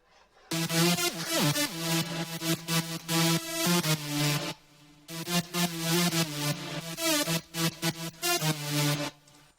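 A buzzy electronic synth bass layer in a mid-tempo track plays a choppy, rhythmic pattern of stabs and sustained notes, loud and upfront, with a brief gap midway.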